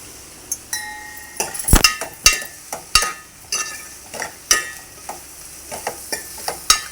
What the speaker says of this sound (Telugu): బాగా కలుపుకోవాలి మసాలా గట్ట పట్టాలి కదా